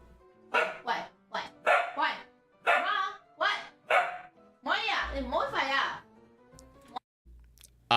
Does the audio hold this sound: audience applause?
no